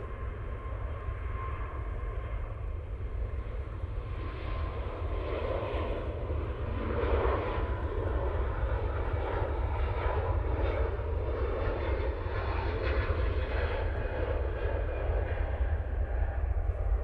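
Airbus A340 arriving at Manchester Airport, its engines a sustained loud roar that swells slightly as the jet draws nearer, continuous and unbroken with no talking.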